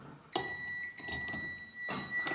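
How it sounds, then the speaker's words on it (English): A multimeter set to continuity beeps while testing a cooker's thermal cut-out, giving a faint steady high tone broken by several soft clicks and handling bursts. "You should get a very low ohm reading, short circuit, and continuity buzzer."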